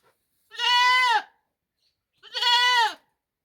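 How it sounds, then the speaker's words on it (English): Goats of mixed Mubende breed bleat on a farm in Kamuli District, two loud, drawn-out calls about a second apart, close to the microphone with quiet between them and no talking. "let us have a look at these goats"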